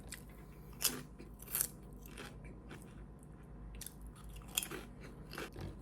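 Thick potato chips bitten and crunched close up, with a few sharp, distinct crunches and softer chewing in between, no talking.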